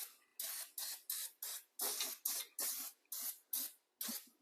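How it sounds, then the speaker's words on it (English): Brake cleaner sprayed onto a brake rotor of a 2016 Buick LaCrosse in eleven short hissing bursts in quick rhythm, close and crisp with quiet gaps between, no talk. "So I'm going to hit it with a little brake clean."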